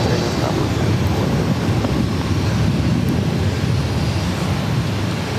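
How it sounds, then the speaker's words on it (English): A Delta Airlines Airbus A330-300 takes off at an airport, heard as a continuous broad roar of jet engines with wind rumble, steady and loud from start to end. "This is Delta Airlines 256 taking off to Amsterdam on the A330 300."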